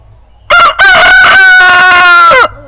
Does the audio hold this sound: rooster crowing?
yes